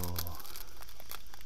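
A Marvel Panini sticker booster pack being torn open, heard as a continuous close, loud crinkling and ripping of foil wrapper, with a voice speaking briefly at the start.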